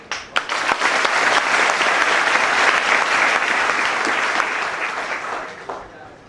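An audience at an anti-firecracker campaign talk breaks into sustained, loud applause, a dense and even roar of many hands that builds quickly after a few scattered first claps and fades near the end.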